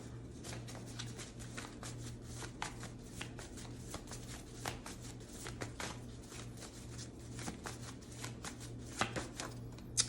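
A deck of tarot cards being shuffled by hand, a steady run of quick papery riffles and flicks close up, with no talking over it.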